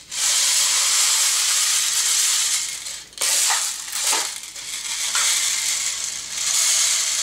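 A PTS Magpul PMag airsoft magazine being filled with BBs from an all-plastic speed loader with metal screws, a close, steady rattling hiss of pellets that drops out briefly midway and then resumes.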